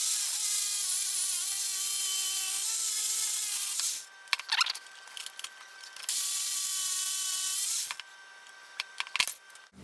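Hand saw cutting through a wooden knife handle to split it, two long stretches of steady rasping strokes, each followed by scattered knocks and handling clatter, close and clear.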